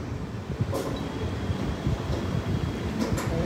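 Train at Duvvada railway station giving a low, steady rumble with faint rail clatter and occasional brief hiss bursts, moderately distant and fairly quiet.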